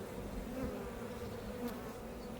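Agitated honeybees from a wild swarm buzz at an opened hive, a steady close droning hum without speech.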